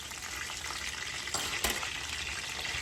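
Pork chops frying in a pan at home make a steady close sizzle with soft crackle and a couple of brief louder pops, no talking over it.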